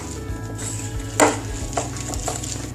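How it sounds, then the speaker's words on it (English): Milk being whisked into a Parle-G biscuit cake batter in a bowl, soft steady swishing and stirring with one sharp clink of the whisk against the bowl, close and without talk. "then whisk and mix everything very well"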